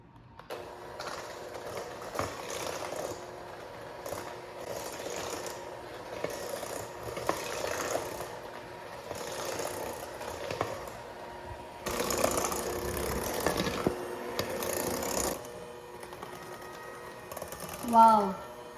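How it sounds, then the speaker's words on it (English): Butter and powdered sugar are beaten into a creamy frosting with a whisk or mixer, a steady whirring and rattling that runs on for many seconds and surges louder toward the end. "And I'm going to whisk it."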